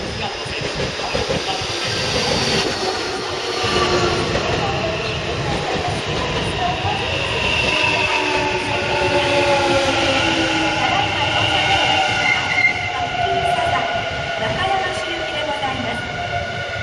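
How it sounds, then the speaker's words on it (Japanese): A Nankai 12000/8000 series Southern limited express, eight cars, rumbles into Sakai Station with steady rolling and metallic squeals from the wheels, while a Japanese public-address announcement plays over the platform noise. "列車8両で到着します。"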